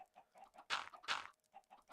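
Soft clucking from video game chickens on a Minecraft-style survival server, a few short clucks with two louder squawky bursts in the middle, faint and close with no talking.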